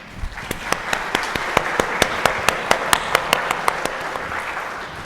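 Church concert audience applauding the musicians, a dense, lively burst of many hands clapping with sharp individual claps standing out, steady then tapering slightly.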